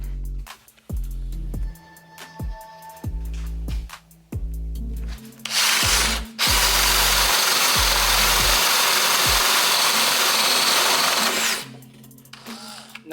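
A DeWalt Atomic compact cordless drill in second gear bores steadily for about five seconds, a loud sustained whir after short start-stop bursts, with brief spoken remarks in the quieter moments.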